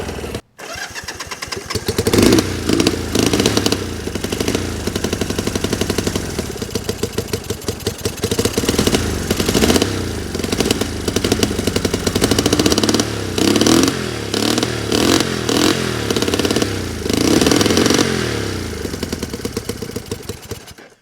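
A smoky Honda CL175 motorcycle engine fires up for the first time on fresh fuel, running loud and rough with uneven revving and sputtering throughout.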